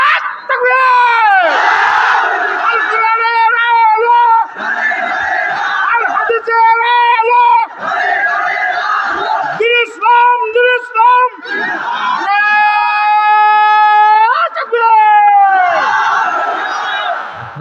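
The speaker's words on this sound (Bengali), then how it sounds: "এবার আমরা সবাই মিলে একটা তাকবীর দেব" Large crowd at an Islamic waz sermon chanting takbir in unison, loud massed voices rising and falling in several sustained, wavering shouts over about eighteen seconds, with a strong lead voice standing out.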